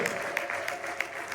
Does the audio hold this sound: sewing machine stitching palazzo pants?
no